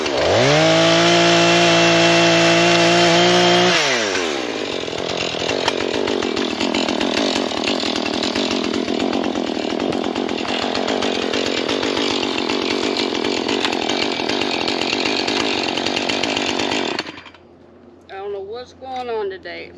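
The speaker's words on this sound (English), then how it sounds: "chainsaw's working great." A chainsaw roars loudly and steadily for most of the clip, biting into wood with a rough, buzzing grind before cutting off near the end.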